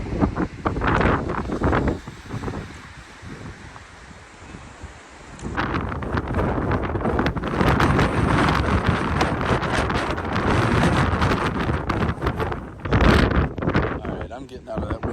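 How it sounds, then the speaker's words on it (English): Strong gusts batter the microphone at a windy roadside viewpoint on Maui's road to Hana, a loud, roaring rumble that swells and eases throughout, with a voice partly buried beneath it. "Getting out of that wind"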